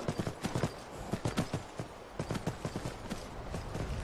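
Horse hooves in the video game Skyrim: a close, steady clip-clop of hoofbeats in a quick, even rhythm that slows briefly before picking up again.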